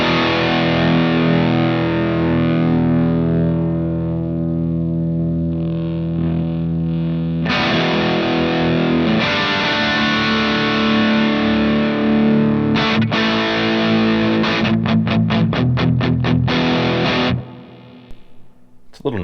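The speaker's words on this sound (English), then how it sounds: "A little noisy too, but you can really hear the raspiness and like fake digital sounding high end there." Distorted electric guitar played through a stock preset on an affordable Pocket X amp modeler, loud and raspy with a harsh digital top end; sustained chords give way to quick staccato chugs, then cut to near silence.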